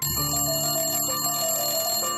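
A ringing telephone with electronic, bell-like tones that sound continuously over a dense musical backing, loud and steady throughout.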